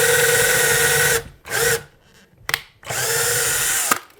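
A power drill drives a screw through a shelf into a wall fitted with a toggle bolt during a kitchen makeover, heard up close in loud whirring bursts: a long run, a short one, a brief pause and another long run.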